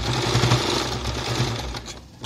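A sewing machine stitches a zippered cushion, running in a fast, steady mechanical chatter that eases off near the end.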